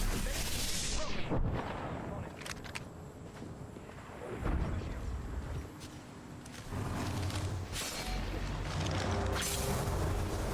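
Gunfire from an Apex Legends match, with sharp shots and booming impacts scattered across the stretch over a dense, noisy game mix, and a voice talking throughout.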